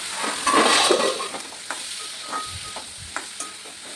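Fresh vegetables cooking in a pan, a gentle sizzle with occasional light stirring scrapes and taps, close and moderately quiet, fading slightly after an early louder burst.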